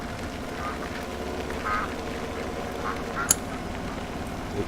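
Ducks quacking repeatedly around a farm in Farming Simulator 17, on the PV Rivers Reloaded map, scattered moderately loud calls over a steady low engine-like rumble.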